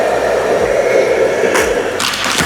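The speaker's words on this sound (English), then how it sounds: "Now let's turn on the heat." A heat gun blowing hot air over vinyl wrap on a PS5 console gives a steady, loud, close whooshing roar, with brief sharper rustles toward the end and no talking.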